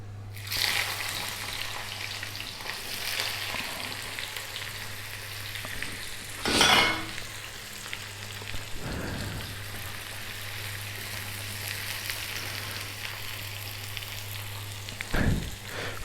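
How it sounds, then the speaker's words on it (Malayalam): Finely sliced onion fries over a full flame for Thalassery beef dum biryani, giving a steady close sizzle with occasional louder crackles and stirring clatters, with no speech. "ഫ്ലെയിം ഫുള്ളായിട്ട് കൂട്ടി വെക്കുക ഉള്ളി ഇട്ടതിന് ശേഷം."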